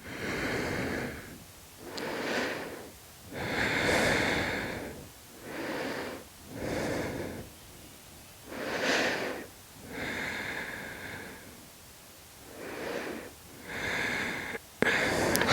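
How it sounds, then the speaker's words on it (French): Slow, deep breaths during a seated yoga twist, each long airy inhale and exhale rising and falling close to the mic in a steady rhythm of about eight breath cycles, with no talk. "Dans tous les cas, on respire bien dans sa posture."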